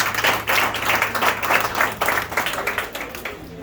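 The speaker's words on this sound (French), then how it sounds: "Que je vous demande encore d'applaudir chaudement s'il vous plaît." Audience applause at a graduation ceremony, a steady wash of many hands clapping close by for nearly four seconds with a faint hum underneath.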